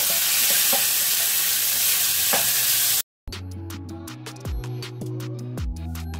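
Browning onions fry in a pan with a dense, close sizzling hiss and faint stirring scrapes, then cut off abruptly and give way to background music.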